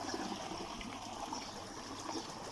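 Cold water flows steadily on a farm, a continuous rushing, trickling wash that stays fairly constant throughout with no clear talk over it.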